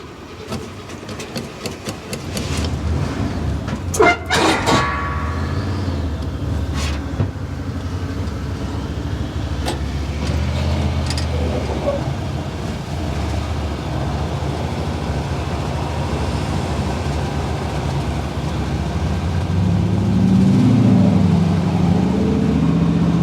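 A 1979 Chevrolet El Camino engine cranks with a few sharp bursts, then catches and settles into a steady, rumbling idle that grows slightly louder and rougher toward the end, close by with no talking.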